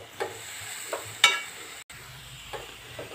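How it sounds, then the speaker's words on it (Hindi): Coconut and full-fat milk stirred in a pan, giving a few soft scraping strokes with a faint sizzle underneath, spaced irregularly and fairly quiet, with no talking. "अब हम इसको अच्छे से फैलाएंगे जब तक इसमें सारा दूध अच्छे से मिक्स ना हो जाए।"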